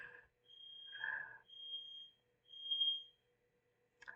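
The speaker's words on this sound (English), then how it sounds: "Oven went off." Kitchen oven timer alarm sounding three steady high-pitched electronic beeps, each about a second long with short gaps, in a quiet indoor room with faint background speech.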